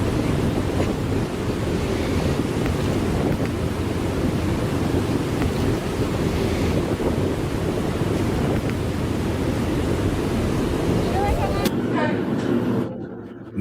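Storm waves pounding at sea under strong wind, a dense continuous roar of surf and buffeting microphone wind noise throughout, loud and close, easing only in the final seconds.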